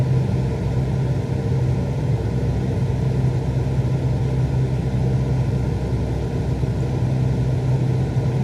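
An aircraft engine on a calm ILS landing approach to an airport gives a steady, loud low rumble and hum that hold even with no rise or fall, and no voice is heard over it.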